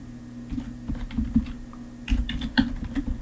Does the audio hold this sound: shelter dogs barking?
no